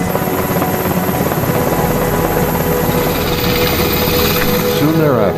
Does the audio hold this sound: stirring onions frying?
no